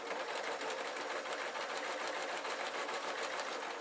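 Sewing machine stitching a hard-wearing peg bag, a fast, even mechanical whirr with rapid regular needle ticks running continuously and close, no talking.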